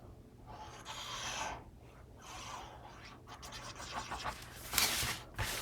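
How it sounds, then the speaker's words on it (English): A small bone folder pushes paper into the corners of a handmade mini album box, giving soft, close scraping and rubbing strokes with a few sharper scratches near the end. "I'll take my little bone folder and push in at the corners there."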